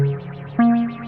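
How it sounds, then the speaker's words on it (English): Shimmer reverb from an Endorphines Ghost effects module, sustained synth tones smeared into a wavering, pitch-shifted wash, with a new note entering partway and ringing on with a pulsing, chorused tail. "we've got a shimmer reverb."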